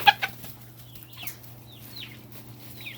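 A chicken on a homestead gives a few short, fairly faint clucks spread over a few seconds against quiet background noise.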